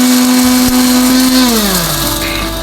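A kitchen blender grinding dried corn husks and sugarcane bagasse into powder, a loud, steady motor whine that dips in pitch partway through as the load changes.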